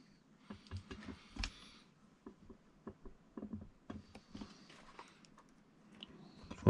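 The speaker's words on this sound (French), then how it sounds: "Le bruit que tu entends, c'est les cardans qui swingent." Drive shafts on a Sworkz S35 RC car swing and clatter in quick, irregular light clicks and taps, close by and fairly quiet, with no talk over them.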